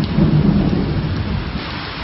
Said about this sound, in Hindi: जद्दा और मक्का समेत सऊदी अरब के मुख्तलिफ शहर इन दिनों शदीद बारिश की लपेट में हैं।